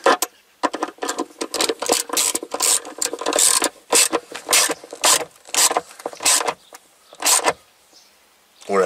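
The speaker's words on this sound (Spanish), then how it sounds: "voy a por la carraca para apretarlo" Rapid clicking of a ratchet wrench tightening the battery hold-down bracket on a BMW 6 Series, loud and close in quick bursts with short pauses between strokes.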